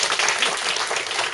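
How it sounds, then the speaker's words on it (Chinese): An indoor audience at a Bhutan travel presentation claps for the presenter, a short burst of dense, even applause from many hands. "我们是不是再给我们潘总监掌声鼓励一下？"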